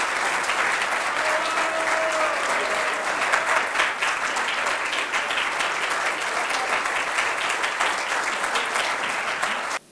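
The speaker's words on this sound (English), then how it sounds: "He deserves a huge round of applause." A club audience at a Rotary Club members' night breaks into loud, sustained applause. The dense clapping holds steady for about ten seconds and then cuts off abruptly.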